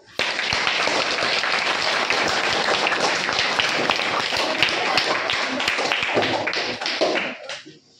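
An audience claps warmly to welcome a chief guest at an interview event, dense applause holding steady for several seconds before tapering off abruptly.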